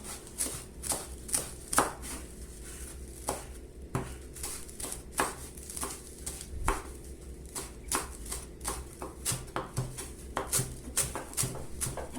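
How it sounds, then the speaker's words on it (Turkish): A knife chops parsley on a cutting board for kısır in a steady, rhythmic series of close, crisp thuds, about two per second, continuing with no talking. "iyice kıyalım maydanozlarımızı"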